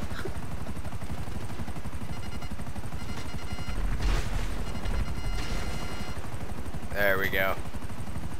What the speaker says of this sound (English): Wow, there's a lot of helicopters.